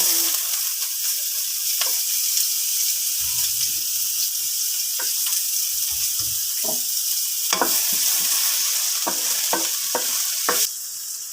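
Garlic, onion and tomato fry together with a constant loud sizzle, punctuated by occasional spoon scrapes and clinks against the pan.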